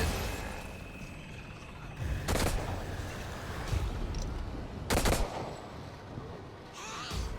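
Gunfire in The Evil Within 2, heard as three loud, sharp bursts spaced a few seconds apart over a steady rumbling game background.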